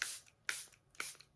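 Charlotte Tilbury Airbrush Flawless setting spray misted in three short, close hissing bursts about half a second apart, with no talking.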